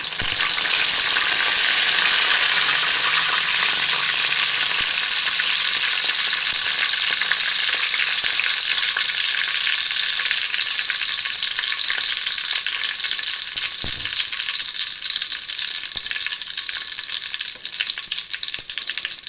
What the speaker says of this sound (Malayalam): ഇതിലേക്ക് മുളകിടാം കരിയേപ്പ് കൊടുക്കാം